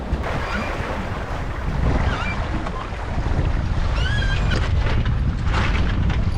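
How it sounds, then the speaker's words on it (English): Waves and strong wind buffet a sailboat off the Portuguese coast, a steady close rush of water and gusting wind noise across the mic, with no talk. "Also the waves have picked up a bit as well."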